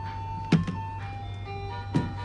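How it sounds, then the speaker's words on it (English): An ice cream truck's tinny jingle plays at a moderate distance, a thin repeating tune over a low steady engine hum, with a couple of brief thumps. "Anybody want any ice cream from the ice cream truck?"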